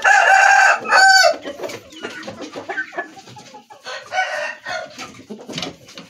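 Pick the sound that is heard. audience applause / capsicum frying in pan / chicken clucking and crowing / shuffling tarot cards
chicken clucking and crowing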